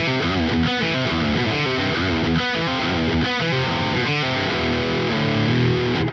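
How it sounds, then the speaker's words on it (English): A heavily distorted electric guitar through a Quad Cortex high-gain rhythm preset chugs out a dense, loud rhythm riff, continuous and saturated throughout. "I've just got my standard high gain rhythm tone"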